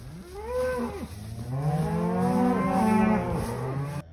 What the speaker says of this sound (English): So here's my dad's cow right here.